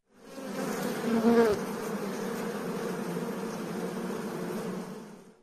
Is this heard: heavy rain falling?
no